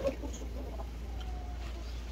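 A gamecock being conditioned for a cockfight gives a few soft, faint clucks over a steady low background hum, with no voices.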